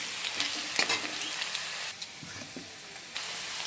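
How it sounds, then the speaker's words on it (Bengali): Cut potatoes frying in a pan, a close hissing sizzle with several quick stirring scrapes early on and brief dips in level, no voices. "আলুগুলো সামান্য ভেজে নিলাম"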